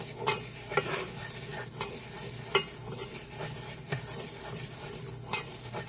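A chocolate strawberry body scrub is being mixed in a metal bowl, with steady gritty scraping and stirring broken by a few sharper clinks of a utensil against the metal, close up and with no talking.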